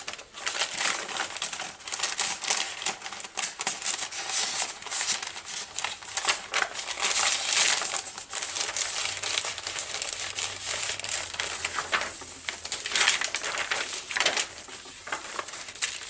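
Paper pockets and an envelope holding extras are handled in a large vintage junk journal, giving a steady, close crinkling and rustling of paper that runs throughout with no talk.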